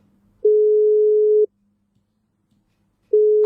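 A telephone line tone sounds during an outgoing call: two long, loud steady beeps about a second each, separated by nearly two seconds of silence, clean and alone with no talk.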